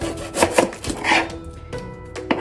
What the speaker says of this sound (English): I'm just going to chop up my onion